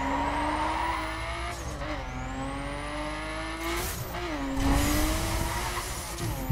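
Racing cars in The Crew, including a McLaren MP4 GT3, driving and crashing into each other: a droning engine pitch rises and falls, tires squeal, and a few broadband bursts suggest impacts or skids. No one speaks.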